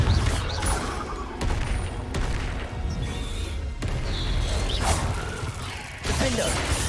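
Explosive spell blasts, crashes and whooshes ring out in a Hogwarts Legacy duel as the Confringo spell is cast, loud and continuous with a voice talking over the clashing bursts.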